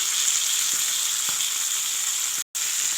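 Breaded chicken breast cutlets sizzle steadily in hot oil in a frying pan, a loud continuous crackling hiss with a brief cut near the end and no voices.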